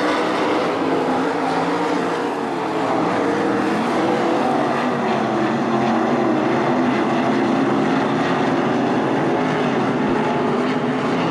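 305 sprint cars race at Attica Raceway Park, a loud, continuous roar of engines dominating throughout with no break in the droning field noise.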